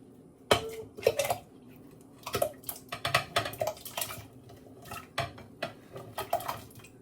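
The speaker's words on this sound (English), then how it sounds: "Now, I'm going to put these potatoes in." Potatoes dropped into a pot of generously salted water for mashed potatoes make several close, sharp clattering knocks and splashes in irregular bursts, with no talking.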